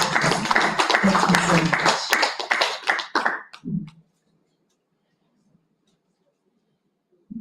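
A conference audience applauds a panel at a sustainability event on net-zero after COP27. Dense, close clapping fills the first few seconds, thins as a voice speaks briefly, then cuts off into near silence.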